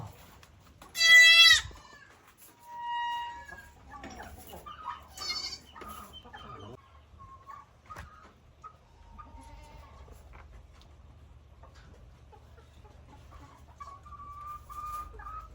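Young goat kids bleat on a farm, with one loud close cry near the start followed by several softer, higher bleats scattered across the clip and faint birds and chickens in the background.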